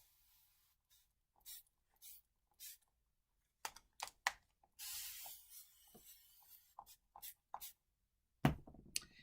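Several short hissing bursts of a spray bottle, separated by quiet gaps, with a longer spray in the middle and a few soft handling clicks.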